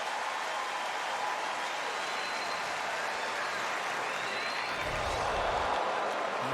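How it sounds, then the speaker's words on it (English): Crowd at a Pirates versus Cubs baseball game at Wrigley Field reacting to a replay on the big screen, a broad continuous murmur and cheer from a large stadium audience, swelling slightly near the end. "You hear the crowd react to the replay on the big screen."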